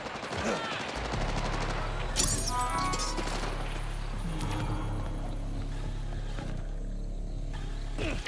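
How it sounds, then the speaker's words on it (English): Rapid gunfire and explosive impacts in the video game Borderlands 4, dense bursts of shots over a low steady hum, loud and close with sharp cracks and crashes scattered throughout. "Let's gun this greaser down."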